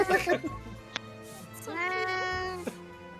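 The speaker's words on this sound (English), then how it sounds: "So hard to tell that's a real cat or not." A cat meows twice in close succession, a short chirp followed by a longer, rising and falling harmonic meow, heard clearly over game music and background chatter.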